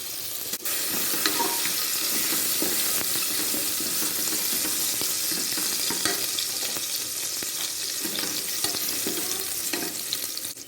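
Ginger garlic paste sizzles in hot sunflower oil inside a cooker, a steady, dense frying hiss that runs continuously and fairly loud throughout, with faint clicks and stirring sounds scattered over it and no voices.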